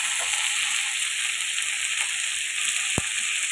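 Sliced potatoes fry in a pan with onion and chili, producing a constant close, bright sizzling hiss with a single sharp tap of a utensil near the end.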